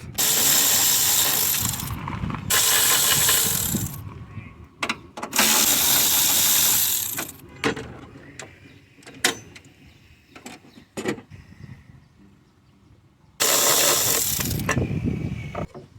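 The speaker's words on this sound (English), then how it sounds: "Now I'm gonna be removing the 10 millimeter bolt." Ratchet turning out a 10 mm bolt on the fan shroud of a 4.2 Vortec engine, heard in several loud bursts of rapid clicking separated by quieter gaps with scattered single clicks, close up and with no talk.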